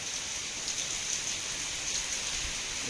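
Steady rain falls in Upleta, Gujarat, in a continuous hiss, an even wash of drops with no voices or thunder.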